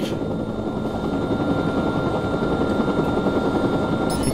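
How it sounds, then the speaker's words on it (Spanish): Helicopter in the Watch Dogs video game, a loud steady rotor and engine drone filling the whole stretch without talk, ending in a short clicking burst. "Estoy en el helicóptero"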